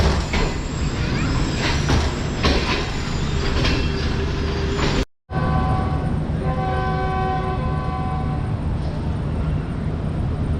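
The Tezgam passenger train moves off from a station after its whistle. A steady rail rumble carries sharp clacks and horn tones, followed by a cut to a rolling run with a sustained tonal whine.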